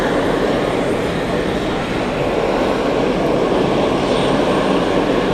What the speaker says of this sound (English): So the go around is Etihad, Airbus A321.